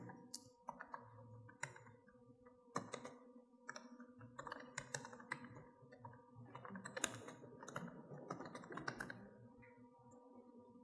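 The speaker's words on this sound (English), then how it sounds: "Say what you're typing." Rapid bursts of typing on a computer keyboard, with irregular clusters of clicking keystrokes and short pauses between runs, close and fairly quiet throughout.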